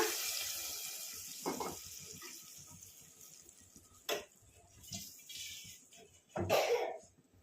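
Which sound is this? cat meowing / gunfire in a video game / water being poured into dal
water being poured into dal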